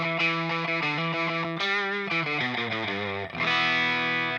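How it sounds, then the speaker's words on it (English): Single-coil Schecter electric guitar played through distortion and reverb pedals on a pedalboard, a run of plucked notes and chords with sustained, saturated tone ending in a louder held chord. "So you have this distortion and reverb together, and you can decide to have only distortion"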